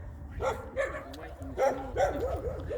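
Several dogs bark and yip outdoors at mid-distance in short irregular bursts mixed with whimpers, alongside a person's speech.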